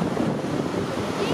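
Windy ocean surf at Manly Beach, Sydney: a loud, steady wash of waves mixed with wind buffeting the microphone, continuous throughout.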